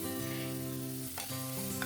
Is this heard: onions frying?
yes